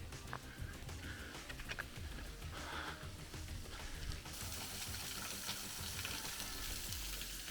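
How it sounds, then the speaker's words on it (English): Water rushes and splashes continuously nearby as it flows down to the Chatsworth House cascade, a dense, steady hiss with no voices. "We're just round the back where the water comes from for the cascade."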